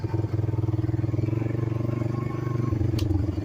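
A four-wheeler ATV rides along a rough farm trail in Wisconsin, its engine a close, steady, rapidly pulsing drone with some faint clatter from the ground.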